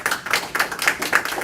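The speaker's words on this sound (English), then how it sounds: "lest I cut off some of the applause" Audience applause in a Chicago meeting hall, a loud, steady wash of many hands clapping close by with no voices over it.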